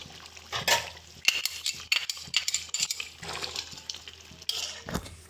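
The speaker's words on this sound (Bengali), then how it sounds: "কাজু বাদাম বাটাটা ভালো করে মিশিয়ে নেব।" Cashew paste is stirred into nearly cooked Hyderabadi green chicken in a pan, producing scraping and clinking from the spoon against metal with soft wet squelches, rising and falling irregularly.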